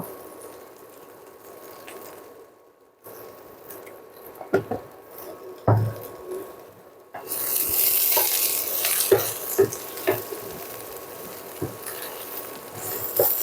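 Jujube pickle being stirred in a pan after salt is added, with a quiet start, a brief gap, and then a louder wet sizzle with scattered scrapes and clinks of the utensil.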